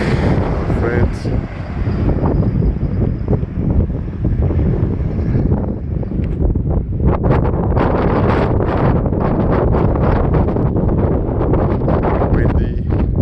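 Wind buffets the microphone on a drive past a volcano toward Ambato, Ecuador, with loud, continuous low rumbling and irregular gusts that grow choppier in the second half.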